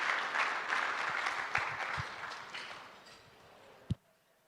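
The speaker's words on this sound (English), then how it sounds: "A round of applause." Applause at an anniversary gala fills the room, steady and dense, then thins and fades out, ending on a single sharp thump near the close.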